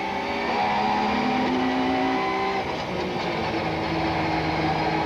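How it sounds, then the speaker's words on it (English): Onboard a 1995 Ford super touring car racing at Kyalami, the engine drones loud and close, its pitch climbing through a gear and then settling into a sustained high-revving roar. "Racecam action from the van der Merwe Ford"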